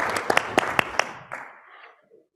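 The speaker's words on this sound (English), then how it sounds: "Uh-oh, we clapped too soon." An audience at a truck safety summit claps in a short, scattered burst of a few distinct handclaps that quickly thin out and fade to silence.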